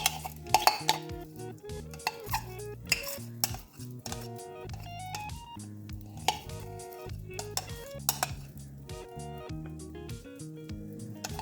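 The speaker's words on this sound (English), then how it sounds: "We'll just spoon these out." Beeswax being spooned out of a container, with a series of close metallic spoon clinks and scrapes against the vessel, some ringing tones, irregular taps spread across the span, no voices.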